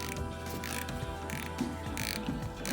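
A ratchet wrench clicks rapidly and steadily up close as it loosens a bolt on the leaf spring of a Nissan D22 pickup, with a metallic pawl rattle and no voices.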